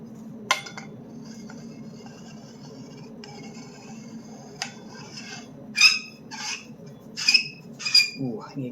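Metal lightsaber hilts clink and scrape as they are threaded together on a quick release coupler, a few sharp metallic chinks near the end over a low background hum.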